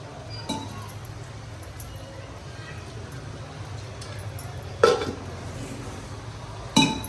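A washed pot lid and utensils give a few sharp, separate metallic clinks in a home kitchen during cooking of mahua sabzi, over a steady background hiss.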